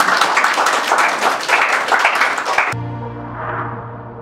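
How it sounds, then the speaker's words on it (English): An audience at a youth leadership panel discussion gives a warm round of applause to welcome the moderator, dense clapping with rhythmic swells that cuts off sharply, leaving a sustained musical tone. "Let's welcome her with a big round of applause"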